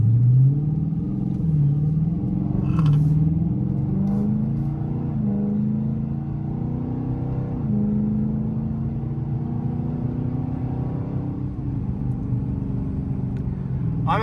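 A car engine hums and rumbles close by, rising in pitch as it revs through each gear and dropping at every firm upshift, several shifts in a row with steady road noise beneath.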